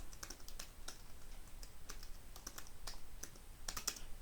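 Code being typed on a computer keyboard, with quiet, close, irregular key clicks coming in short bursts and no talking.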